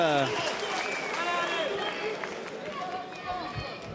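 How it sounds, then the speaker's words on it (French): Crowd at a boxing match during the tenth and final round, applauding and cheering loudly and continuously, with shouting voices over a dense roar of noise. "Vous pouvez les applaudir et les encourager"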